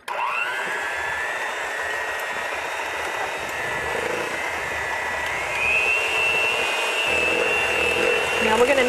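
An electric hand mixer whirs through banana bread batter, a steady close motor whine that rises in pitch midway and grows slightly louder toward the end.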